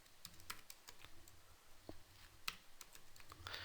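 Fast, uneven clicking of computer keys as someone types code for a PHP tutorial. The keystrokes are close and fairly quiet, with no talking over them.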